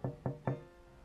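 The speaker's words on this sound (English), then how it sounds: "she heard another knock at the window." Three evenly spaced knocks rap on a window in a fairy tale scene, sharp and close but fairly quiet, each with a short hollow ring, followed by quiet.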